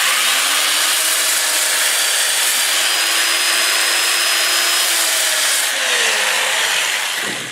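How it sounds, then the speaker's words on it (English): Sandpaper rubs against a spinning macadamia wood bowl on a lathe, making a loud, steady abrasive whir over the motor's drone, winding down at the end. "I'll start out with 80 grit, work my way up to 400 or 500"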